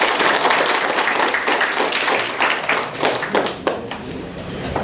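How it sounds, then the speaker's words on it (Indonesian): Audience applause at the opening ceremony of a school vocational skills competition (LKS) at SMK Negeri 3 Maumere, loud dense clapping from a crowd that continues steadily and thins slightly toward the end. "Tepuk tangan dulu."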